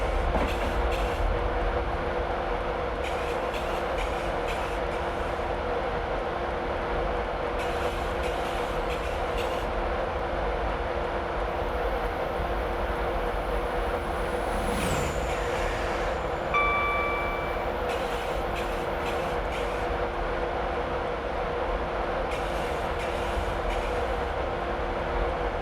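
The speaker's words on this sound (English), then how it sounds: "I've just idled the power to allow the train to coast down to 90." A Class 91 electric train coasts on the East Coast Main Line in Train Simulator 2016, with a steady rolling rumble and hum, rhythmic wheel clicks and a brief rising tone partway through, with no talk.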